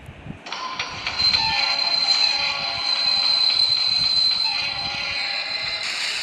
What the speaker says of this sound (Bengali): বাহ, ট্রেনটা ভাঙিয়ে গেল নিচে পড়া